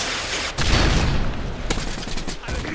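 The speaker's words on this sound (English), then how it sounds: "I don't flee, Flashbang!" A loud flashbang blast followed by a dense burst of rapid gunfire in a shooter video game, harsh and continuous over a couple of seconds.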